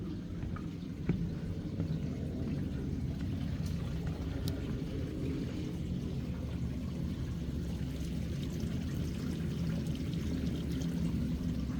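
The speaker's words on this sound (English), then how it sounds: "Looks like there's a little river or creek here." A small creek flows along a nature center hiking trail, a steady close wash of running water with no break or talk.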